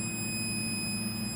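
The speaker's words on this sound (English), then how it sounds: "Beeping, good continuity." A multimeter continuity tester gives a thin, steady electronic tone for the whole moment, an unbroken high beep over a low hum of background noise.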